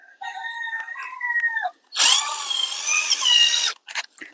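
Cordless power drill drives brass three-inch screws into a wooden well cover, giving a loud, close whirring run of nearly two seconds that trails into short bursts. A tonal, rooster-like call is heard just before it.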